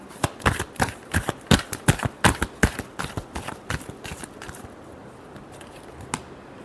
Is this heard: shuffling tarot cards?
yes